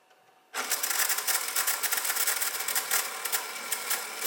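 A small brushless motor built from Lego, driving a gear reduction, whirs steadily as it lifts a weighted basket on a pulley, a dense buzzing, clattering mechanical drone that starts abruptly and runs on close and loud.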